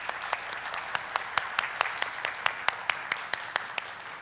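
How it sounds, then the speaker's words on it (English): An audience claps together in a fast, steady rhythm, about two to three sharp synchronized claps per second, with a broad wash of scattered clapping underneath filling the room throughout. "Clap fast like this."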